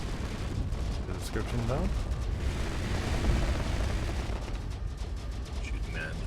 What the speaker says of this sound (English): Shooting Man putting out the railguns onto Tumor.